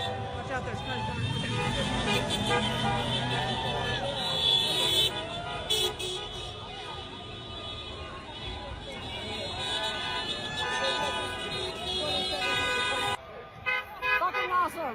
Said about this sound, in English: Watch out, there's cars coming